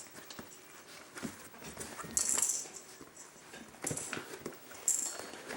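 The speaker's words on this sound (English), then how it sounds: "There's a puppy." Young puppies whimper in a few thin, high squeaks over soft rustling and shuffling, faint and intermittent at close range.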